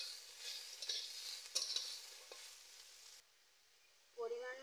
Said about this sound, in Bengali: কালো জিরে দিয়ে দিচ্ছি, কেটে রাখা সবজি দিয়ে দিচ্ছি